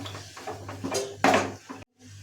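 Ground paste of coconut, ginger and garlic stirred into a pan for drumstick-leaf bhaji, with metal clinks and scrapes of a spoon against the cookware, moderately close, with no talking.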